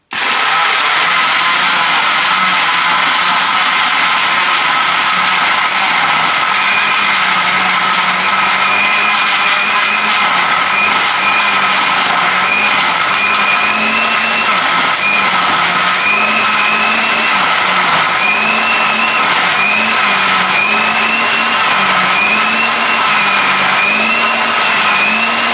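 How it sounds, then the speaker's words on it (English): A blender crushes ice for a mint choc chip frappe on its lowest speed setting, a loud continuous motor whir with a wavering pitch and grinding texture running throughout, no talking. "I'm going to knock it onto number 1, let it blend through"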